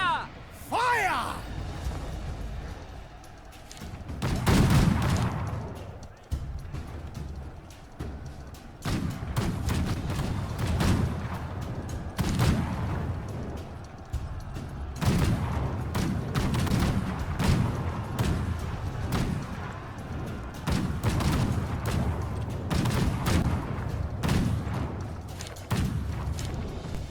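Musket volleys in Conqueror's Blade boom in repeated crashing bursts over a dense battle din, with a voice shouting and talking throughout.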